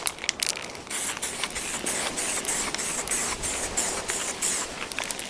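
Spray painting lacquer onto a surface with a slow arm pass, a continuous close airy hiss with faint mechanical clicks and brief breaks, steady and fairly quiet, with no talking.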